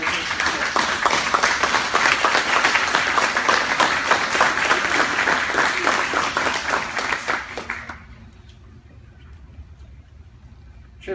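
An audience at a Hawkins County school board meeting honoring the Cherokee High School NJROTC gives dense, steady applause for about eight seconds, then it stops abruptly into a quiet room.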